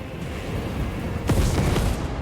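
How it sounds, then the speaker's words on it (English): Cannon fire rumbles through a battle in the Total War Warhammer III video game, with a dense, continuous roar broken by one heavier boom partway through and a fainter thud after it. "The cannons rain death."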